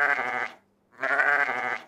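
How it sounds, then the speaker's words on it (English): A sheep gives two loud, close bleats, each about half a second long, separated by a brief silent gap. "It is a sheep."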